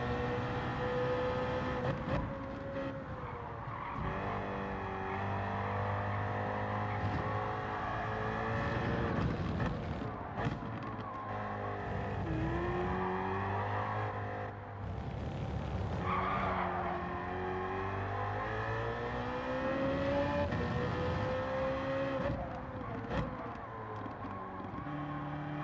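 Race cars in a Gran Turismo video game roar through a track, engine notes rising and falling with gear changes alongside squealing, skidding tires, loud and continuous.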